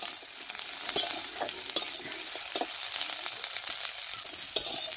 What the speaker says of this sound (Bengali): এবারে কড়াতে সর্ষের তেল দিয়ে দিচ্ছি। প্রথমে ফুলকপিটা ভেজে নেব।